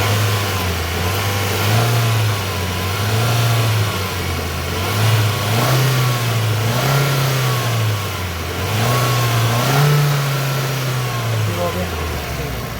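Suzuki Cultus EFI car engine revved repeatedly with the accelerator during a TP sensor check, rising and falling in several loud pulses over a steady idle.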